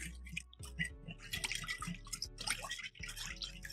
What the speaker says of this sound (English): And then you're going to whisk this together.